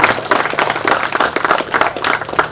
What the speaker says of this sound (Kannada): ಒಂದು ದೊಡ್ಡ ಚಪ್ಪಾಳೆ ಬರುತ್ತೆ